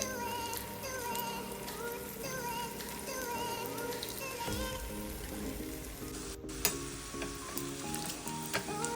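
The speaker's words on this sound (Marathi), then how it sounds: "आता आपण हे यामध्ये फ्राय करून घेणार आहोत." Sabudana vada frying in hot oil, a continuous close crackling sizzle with a sharp clatter partway through.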